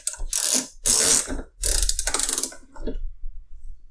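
Internal ratchet mechanism of a Harbor Freight ICON wrench clicking in several rapid bursts of close, sharp ratcheting, with short pauses between strokes and no talk.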